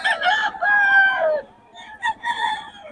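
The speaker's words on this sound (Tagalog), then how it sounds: "Ang manok ni Boss Jun to, mga boss." A rooster at a market crows loudly up close in one drawn-out call, followed by a few shorter clucks from nearby chickens.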